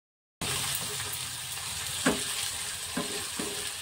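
Chopped onion, garlic, ginger and green chili sizzling in oil in a pan, a steady close frying hiss with a few soft knocks of stirring.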